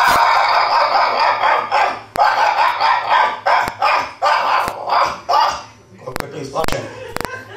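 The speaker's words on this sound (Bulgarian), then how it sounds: "Кучето като е заближа отдалече, започва да я лай." A dog barks in a rapid run of repeated yips and barks, loud and close, followed by a few sharp knocks, with a voice speaking over parts of it.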